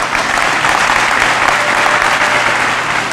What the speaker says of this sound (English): Can we give the parents a round of applause?